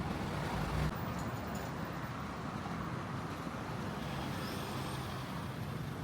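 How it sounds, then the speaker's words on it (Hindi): Steady road traffic on Pattaya Beach Road in the morning rumbles at a moderate distance, a continuous wash of engines and tires with no talking. "आगे आते ट्रैफिक का शोर शुरू हो गया"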